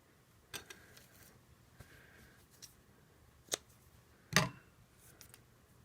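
Scissors snipping card stock at a crafting desk: a handful of separate close, crisp cuts spaced a second or so apart, the last one louder and longer, against near silence.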